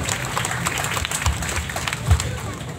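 Audience applause at a church congregation's 97th anniversary celebration in Kupang, a steady wash of clapping from a crowd with some voices mixed in and a couple of low thumps.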